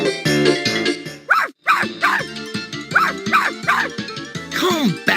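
Dog barking in the PS1 game 102 Dalmatians: Puppies to the Rescue, a rapid run of close, loud yips and barks with a few whiny yelps over a bouncy music track.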